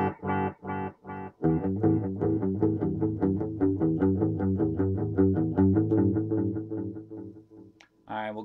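A vintage DigiTech Time Machine rack-mount digital delay repeats a distorted electric guitar line as a steady train of rhythmic echoes. The notes are loud and close, and the repeats decay toward the end.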